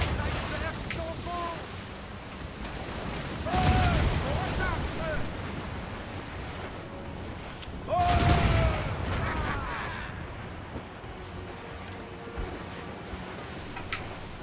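Cannon fire at sea in Assassin's Creed Rogue sounds as two heavy booming volleys a few seconds apart, each rolling out over a windy ambient background, with some faint chatter between them.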